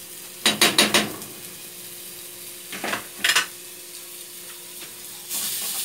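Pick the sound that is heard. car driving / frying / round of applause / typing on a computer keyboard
frying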